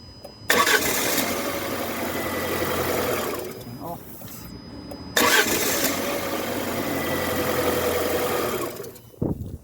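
A Fiat 500 with a no-start fault cranks twice, each a long steady churning whir lasting several seconds, loud and close, with a short pause between attempts and no catch.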